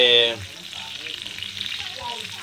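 A whole fish frying in oil on a tawa, with a steady bright sizzle that carries on after a brief tonal musical sound at the start fades, close and fairly loud.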